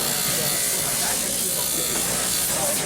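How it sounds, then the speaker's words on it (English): A dental handpiece or lathe cutting off the tail of an oral appliance, a loud continuous high-pitched grinding whine close up, with a voice talking over it. "You can do it with a handpiece, or you can do it with the lathe. You take it over, you put it on, you cut it off"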